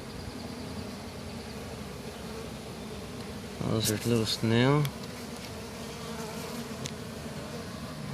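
Bees buzzing inside a styrofoam cooler used as a beehive, a steady insect drone running underneath as someone speaks briefly partway through.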